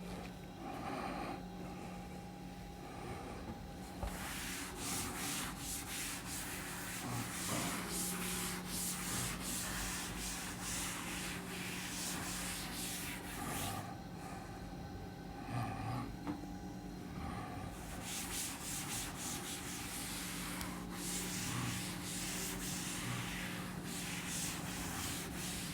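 A board is rubbed clean during a Class 12 electrostatics lecture, with steady scraping strokes that run continuously and close for the whole stretch, broken by brief pauses and with no talking over it.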